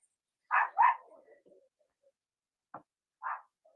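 A female dog indoors in a studio gives a quick double bark, then a trailing whimper and a single softer bark a few seconds later, fairly close and alone.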